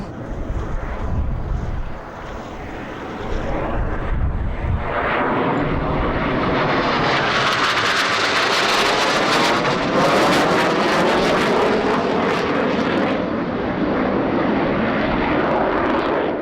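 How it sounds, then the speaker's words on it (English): A SEPECAT Jaguar jet makes a high-speed pass at about 600 knots at an airshow in Jersey, a loud sustained roar that swells and peaks mid-pass before trailing off, with wind buffeting the microphone. "Round for a high-speed pass, flown at about 600 knots."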